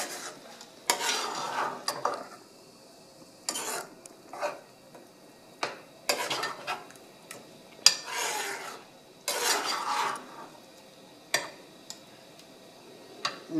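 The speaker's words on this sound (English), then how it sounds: "And just stir nicely well." A spoon scrapes and stirs ginger powder through palak tofu in a pan, giving close, intermittent rasping strokes separated by quiet pauses.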